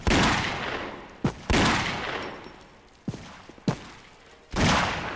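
Gunfire in the video game Postal 4: loud sharp shots ring out with long decaying echoes, a few separated blasts and smaller cracks between them, no talking.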